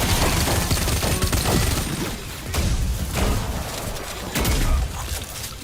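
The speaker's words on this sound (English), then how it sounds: "I should probably use the submachine gun here." A submachine gun firing in the Wrack: Reclamation shooter, heard as loud, dense bursts of rapid shots in several volleys, mixed with booms and impact crashes.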